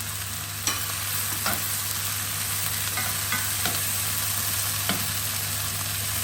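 Leeks, fish and plum sizzle steadily in a hot pan, a loud continuous fry with several sharp clatters as the pieces are tossed and stirred, with no voices.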